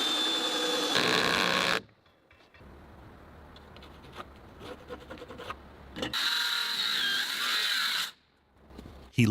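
A power drill drives screws into a new wooden roof rafter during construction of a greenhouse structure attached to a cabin in the forest, heard in two loud sustained whirring bursts with quieter scraping and tapping in between.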